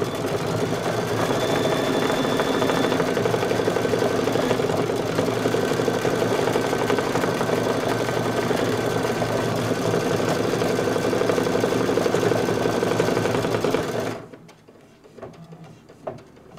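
Sewing machine stitching fabric applique with shortened stitches, a steady close mechanical whir running continuously for about fourteen seconds before stopping abruptly, leaving near quiet.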